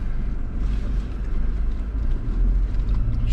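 A Toyota Fortuner in low range without diff lock grinds steadily up a steep, loose marked trail, its engine a constant low rumble with wind buffeting the microphone throughout.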